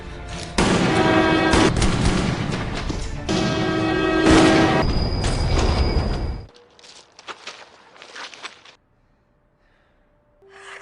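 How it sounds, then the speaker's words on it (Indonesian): Several loud booming gunshots in a crime film fire in quick succession, each with a ringing tail, then scattered fainter cracks and clatter before the sound drops away. "Tanpa ragu, Huang melepaskan tembakan"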